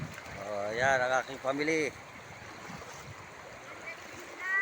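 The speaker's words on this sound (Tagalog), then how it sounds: "ayan ang kanyang running water" Running water flows steadily in the background, a continuous rushing wash that sits under someone speaking for the first couple of seconds and then carries on alone.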